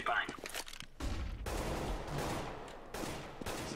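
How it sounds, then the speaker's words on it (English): A flashbang grenade goes off in a multiplayer shooter video game, a loud broadband burst followed by sustained rumbling noise and scattered gunfire-like crackles, with a short quiet gap before it and another near the end. "Deploying flashbang."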